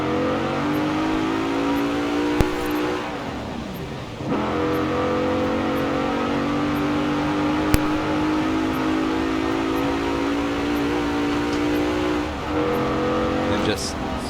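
Mercedes-AMG GT in Forza Horizon 4 producing a loud, sustained engine drone with supercharger and intake whine, pitch sliding down and back up through gear changes, with a voice talking over it.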